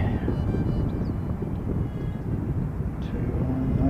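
An Origin Air airplane taking off at Christchurch airport, heard as a steady, heavy low-frequency engine roar with wind buffeting, loud and continuous across the whole stretch.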